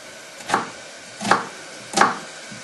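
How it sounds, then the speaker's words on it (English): A knife cuts lengthways through a halved onion on a board, making three distinct, evenly spaced crisp chops, close and clear with quiet in between. "Bring the knife through, but don't cut into the root."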